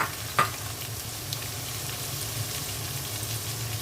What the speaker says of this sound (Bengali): পেঁয়াজের বেরেস্তার মধ্যে দিয়ে দিচ্ছি মুগের ডাল।